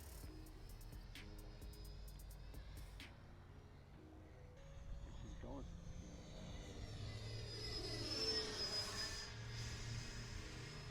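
A Freewing 70mm F-22 Raptor RC jet passes by with a faint, rising electric ducted-fan whine that swells and bends in pitch as it approaches, then tapers off, heard at a distance.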